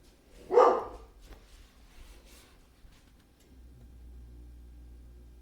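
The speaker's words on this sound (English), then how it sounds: "He's a really good dog, but he barks a lot." A dog at home lets out a single loud, close bark, followed by faint whimpers and softer noises, then a low background hum as the room settles.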